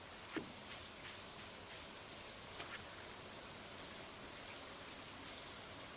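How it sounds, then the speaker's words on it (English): Steady, soft rainfall in Stardew Valley hisses continuously with a few faint droplet taps, no voices. "It's raining again."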